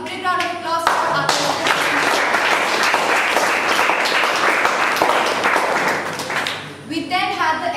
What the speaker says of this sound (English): Please a big round of applause for our